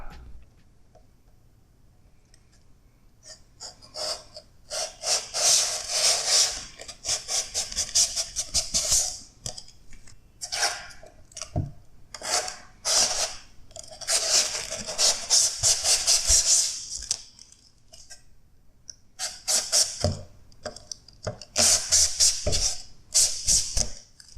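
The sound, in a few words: peeling protective plastic film off a Funko protector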